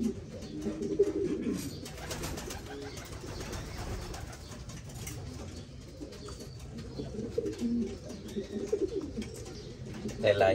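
Adult Gaditana hen pigeons bathing in water with a little sun, soft low cooing running steadily throughout with faint splashing and other birds in the background, no talk.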